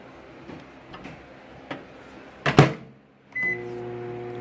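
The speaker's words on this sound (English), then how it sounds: "I'm going to microwave it" A few clicks and small knocks, then a sharp clack like a door shutting, followed by the beep and steady hum of a microwave oven starting.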